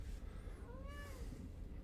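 A domestic cat gives a couple of clear, close meows, one short and one longer and wavering, over a low steady background hum with no talking.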